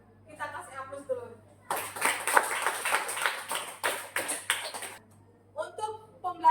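Students in a classroom clap together in a brief round of applause, a few seconds of loose, uneven hand claps set between a teacher's spoken words.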